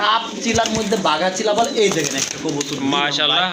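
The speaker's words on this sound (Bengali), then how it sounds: "এখানে এই যে দেখেন কবুতর" Pigeons coo steadily throughout at a bird dealer's, with a voice talking over the continuous chorus of calls.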